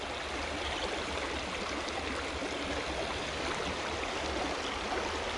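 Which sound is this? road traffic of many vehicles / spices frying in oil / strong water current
strong water current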